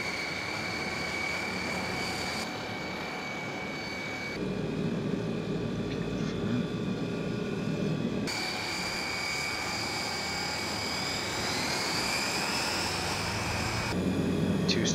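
Turboprop engine spooling up on a Hawker Siddeley HS 748 in the Prepar3D flight simulator, a steady whining drone that rises in loudness and pitch partway through and holds throughout.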